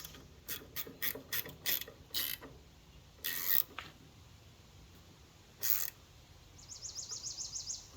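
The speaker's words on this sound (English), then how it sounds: "The bolt tightens, but I don't know if that washer's compressed." Ratchet wrench tightening a bolt on a damaged wood chipper, a quick run of sharp close clicking strokes followed by a few separate ratcheting bursts, with a faster, lighter clicking run near the end.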